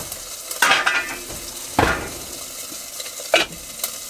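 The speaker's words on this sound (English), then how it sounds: "It's boiling the alcohol off." A cocktail simmers in a pan in a van kitchen while the alcohol boils off, giving a soft steady sizzle with three sharp stirring scrapes and clinks spaced about a second apart.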